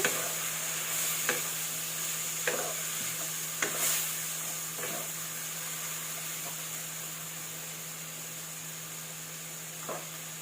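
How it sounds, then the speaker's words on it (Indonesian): Squid frying in sambal paste in a pan while being stirred, with a steady hiss of sizzling and occasional sharp scrapes and clacks of the utensil against the pan, close and continuous without any talk. "Setelah bumbunya matang seperti ini, lalu kita masukkan cuminya. Kita aduk-aduk lagi."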